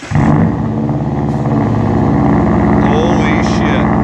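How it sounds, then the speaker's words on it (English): A 2015 Subaru Impreza engine fitted with a UEL header fires up on its first cold start, a loud, steady low rumble with a lumpy idle that runs the whole time, and voices talk over it. "Guys, we got the header all on. This is gonna be the first cold start."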